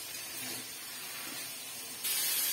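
Paneer cubes frying in a pan with turmeric, salt and chilli powder give a steady close hiss that swells louder near the end, with no voices.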